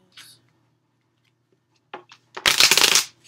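Stiff tarot cards shuffled up close, a couple of short rustles and taps followed by a loud dense riffling burst, with a brief murmured voice at the start.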